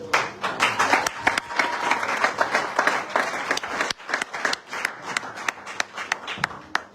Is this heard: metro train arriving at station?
no